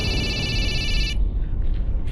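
Indoor telephone rings with a bright, trilling electronic bell for about a second, then cuts off and leaves a low room rumble.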